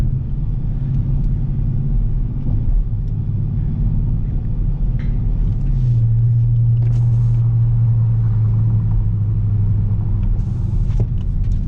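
Dodge Charger R/T cruising on a turnpike, a continuous deep engine drone and road rumble heard from inside the car, with the engine note shifting steadily in pitch partway through as the transmission changes gear.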